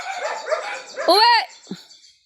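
Dogs bark and whimper close by in short yelping bursts, one rising whine standing out, while a voice scolds them over the noise.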